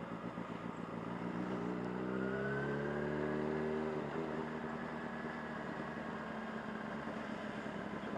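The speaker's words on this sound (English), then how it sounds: "the exhaust and the engine sounds lovely" A car engine and exhaust hum steadily while driving slowly downhill on an evening road, with a smooth rising and falling engine note at close range and no talking.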